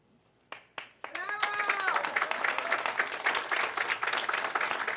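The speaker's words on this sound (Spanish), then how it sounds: "Merecidos aplausos" After a few isolated claps, applause swells into steady, full clapping from the audience at a human-rights journalism awards ceremony, with brief whistles or cheers rising over it near the start.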